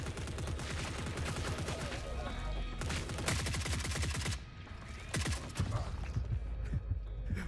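Sniper and automatic gunfire in the video game Forever Winter: dense bursts of rapid shots crackle loudly and close, with a brief lull before more sharp reports break out, and a voice speaks briefly amid the shooting.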